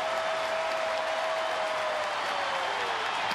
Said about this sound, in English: again the crowd to their feet, hoping for another victory on this homestand